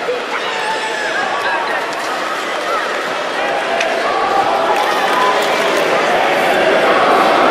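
A wrestling arena crowd cheers in a big, steady roar that swells slightly over several seconds, with a commentator's voice running over it.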